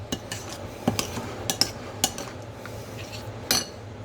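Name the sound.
stirring pizza sauce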